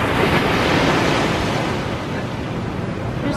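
Ocean waves break on a Hawaii beach in a steady, loud wash of surf with wind buffeting the microphone, continuous throughout with no voices.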